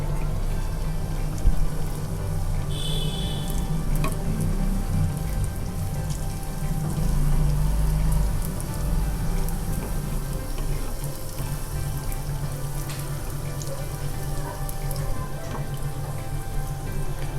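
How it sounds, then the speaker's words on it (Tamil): Donut dough frying in hot oil, a soft, steady crackling sizzle like light rain that holds at an even level throughout, close and fairly quiet with no talking. "இப்போ இதை நம்ம வந்துட்டு அப்படியே ஃப்ரை பண்ணிக்கலாம்"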